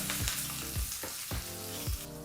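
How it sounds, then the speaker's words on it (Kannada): Chillies and curry leaves sizzle steadily in hot oil, with a few regular clinks from stirring, close and fairly loud. "ಇದನ್ನು ಒಂದು ಇಪ್ಪತ್ತರಿಂದ ಮೂವತ್ತು ಸೆಕೆಂಡು ಎಣ್ಣೆಯಲ್ಲಿ ಬಿಸಿ ಮಾಡಿಕೊಂಡ್ರೆ ಸಾಕಾಗುತ್ತೆ"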